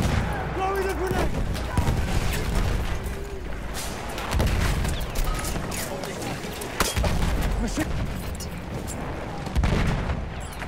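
Battlefield-style video game combat with repeated gunfire bursts and booming explosions, including a thrown grenade near a tank, dense and continuous with voices calling out over the noise.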